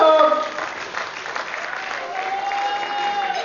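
An audience at a comedy show applauding: a burst of clapping that swells at once and then thins, with a crowd murmur and a voice over it.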